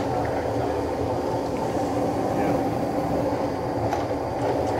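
Corn grinding machine fed corn for making tortillas gives off a steady, dense mechanical roar with grinding rumble, loud and continuous, with faint voices underneath.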